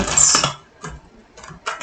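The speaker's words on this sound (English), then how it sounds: "that was not a good shuffle" Short papery riffles and flicks of archetype oracle cards being shuffled, coming in several quick bursts with brief quiet gaps between them, close up.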